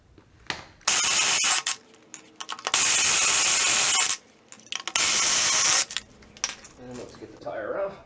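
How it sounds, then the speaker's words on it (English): Lug nuts come off a Jeep JK's rear wheel in three loud, roughly one-second hissing bursts from a close air tool, separated by quieter clinks and handling noises. "let's get the lugs off here"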